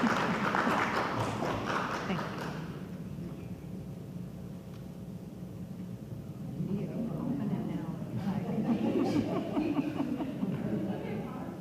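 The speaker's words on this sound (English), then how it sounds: "hopefully maybe we can get the crowd just to even give a little applause" Audience applause at a school board meeting, a dense burst of clapping that fades out, followed by murmuring and a second rise of clapping and crowd noise with voices talking.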